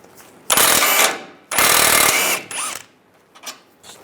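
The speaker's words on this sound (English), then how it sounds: "Take this bolt out here, use a 16mm socket." A 16mm socket wrench removing a bolt from the front sway bar link of a 1998-2010 Volkswagen Beetle, with two loud close bursts of ratcheting clicks, then a shorter ratchet and a faint click, no talk.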